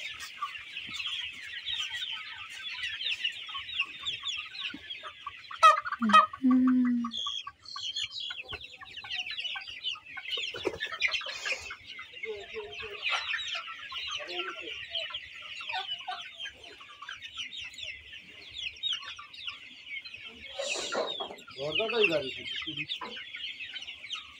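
Steady, dense clucking from a flock of Sonali chickens on a farm runs throughout, with a louder squawk or two near the start and brief human voices briefly mixed in.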